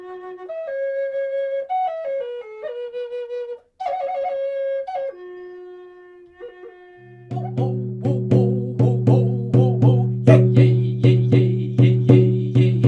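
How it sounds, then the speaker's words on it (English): A breathy Native American cedar wood flute plays a slow, sustained melody of held notes, then low drumming and rattling join in with a steady rhythmic pulse. "Native American flute made from cedar wood."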